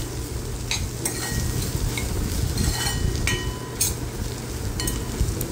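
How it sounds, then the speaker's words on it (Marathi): Fried spices with chopped coriander and crushed sandge being stirred together in a pan, a steady sizzle under repeated scraping and clinking of a spoon against metal, close and continuous. "आता हे सगळं आपण एकजीव करून घेऊया।"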